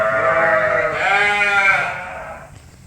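A sheep on a straw-bedded farm gives one long, loud, wavering bleat close by, fading away over the last second.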